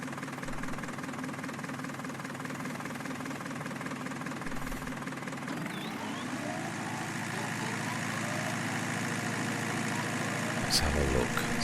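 Tractor with an adjustable front-link mower cutting grass in Farming Simulator 19, a steady engine drone with a whirring cutter that builds slightly louder toward the end, with a voice talking over it.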